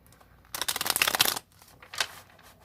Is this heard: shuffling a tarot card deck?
yes